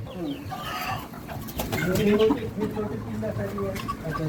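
Hens sit brooding in a coop nesting spot on a small poultry farm, soft clucks and murmuring calls close by, mixed with people talking throughout.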